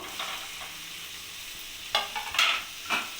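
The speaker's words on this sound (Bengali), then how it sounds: "আলু আর ফুলকপিটা যে ভেজে রেখে দিয়েছিলাম সেটাও আমি কড়াইতে দিয়ে দেবো" Fried potatoes and cauliflower tipped into spices in a wok for an egg curry, with a low sizzle and a few scraping stirs and clatters near the end.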